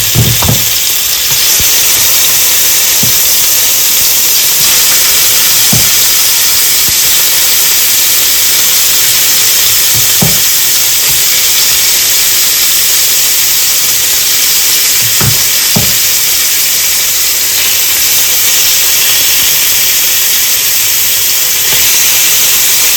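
Vegetables dropped into hot oil in a pan while cooking a vegetarian curry dinner, giving a steady, close broadband sizzle and hiss with a few soft clunks and stirring knocks throughout.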